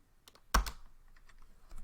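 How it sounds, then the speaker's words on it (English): A few keystrokes on a computer keyboard while entering a Linux command at a terminal: one sharp, loud clack with faint lighter taps around it, close by and with no talking. "so start by typing vi,"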